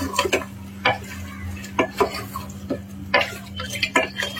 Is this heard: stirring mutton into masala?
yes